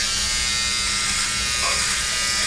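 A charged electric beard trimmer runs through a beard with a steady, continuous buzz, while someone talks faintly underneath.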